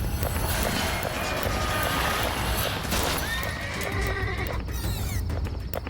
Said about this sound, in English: An Amish horse and buggy whips around a corner